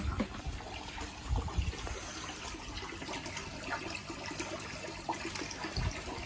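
Hot tub filling with water: a quiet, continuous rush and trickle of running water with faint splashy bumps throughout, steady and unbroken.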